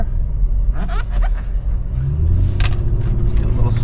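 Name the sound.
SUV engine accelerating and shifting gears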